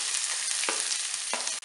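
Onions with mustard seeds, cumin and urad dal frying in oil make a loud, dense, close sizzle, broken by a couple of quick stirring scrapes in a brief burst.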